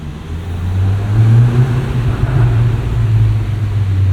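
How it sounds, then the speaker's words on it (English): A 2024 Volkswagen Golf R six-speed manual drones loudly and continuously with a low steady hum on a night drive, with faint whooshing rises of turbo boost underneath. "Get some good boost noises here and there from this as well."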